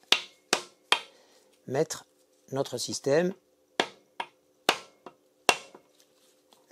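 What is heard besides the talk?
dead-blow hammer tapping a socket on a motorcycle steering column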